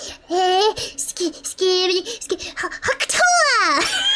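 A young voice imitates a person named Palm sneezing, a run of exaggerated, pitch-swooping vocal bursts ending in a long falling squeal, close and loud.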